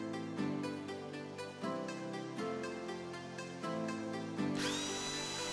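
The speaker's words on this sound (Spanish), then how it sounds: "Empezamos haciendo unos agujeros muy finos en los laterales para sujetar lo que será la correa." A small power drill bores fine holes into the wooden sides of a handmade Nordic-style camera, a steady high whine broken by short pauses and restarts, with a brief bright squeal near the end.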